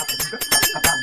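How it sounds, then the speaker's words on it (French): Bright little bell tones ring out in a trap and future bass beat, struck in quick repeated hits with a shimmering metallic decay, loud and close with no voices. "Là ça va être des petites bells, donc des cloches, hein."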